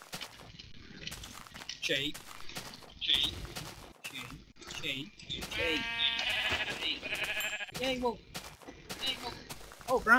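Sheep in Minecraft bleat several times amid a busy stretch of game sounds, with people talking over much of it and footsteps and thuds scattered throughout.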